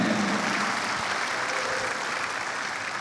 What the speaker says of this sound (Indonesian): ya tepuk tangan dulu dong buat teman-teman OYC 8 ya.